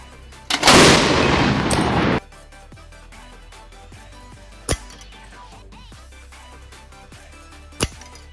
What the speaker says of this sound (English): An airsoft sniper rifle firing a plastic BB pellet at about 350 feet per second.